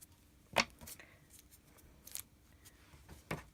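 Scissors trim folded paper for a journal flower, making three quiet, crisp snips spaced apart at close range.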